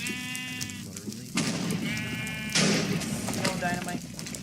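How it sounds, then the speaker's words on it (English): Sheep in the Minecraft video game bleating several times in short separate calls, with occasional thumps and someone talking over them. "There's a lot of sheep in this place."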